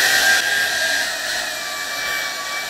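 Hoover H Free 500 cordless stick vacuum cleaning a floor: a steady, close, high-pitched motor whine with airy suction noise, running continuously with a slight drop in level after the first moment.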